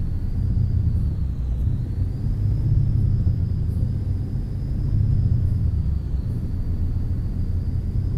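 A MAN F truck with a 12-speed gearbox, driving in Euro Truck Simulator 2, gives a steady, heavy low engine rumble that holds at an even level throughout with no talking.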